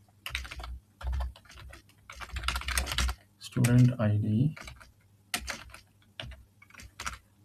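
Bursts of clicky typing on a computer keyboard come in short runs with pauses, alternating with someone talking in between and over a few of the keystrokes.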